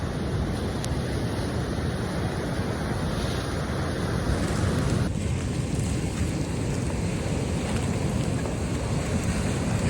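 Rain falls at a beach, a dense, steady wash of noise that runs unbroken for ten seconds, with no voices over it.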